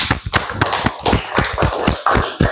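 Classroom applause after a pupil's correct answer about liquid turning to solid, a run of quick, irregular claps close by, dense and lively for the whole stretch with no voices.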